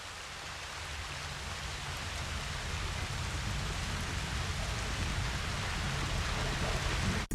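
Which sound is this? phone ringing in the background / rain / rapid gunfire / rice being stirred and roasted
rain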